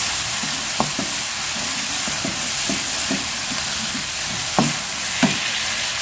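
Potatoes fry in a pan under a loud, continuous sizzle, while a utensil stirs them with occasional scraping clunks against the pan. No one speaks.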